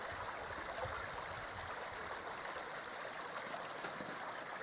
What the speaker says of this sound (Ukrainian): Але там далі вже протікає вода.